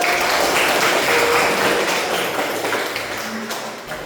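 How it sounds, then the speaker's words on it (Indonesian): A classroom of students claps together in a burst of applause. The clapping is loud at first, then gradually thins and fades toward the end. "Kasih tepuk tangan buat"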